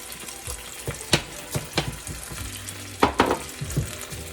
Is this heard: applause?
no